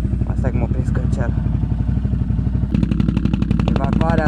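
An ATV engine and exhaust run at a steady rapid putter close to the microphone while a person talks over it, and the engine note rises in the final seconds.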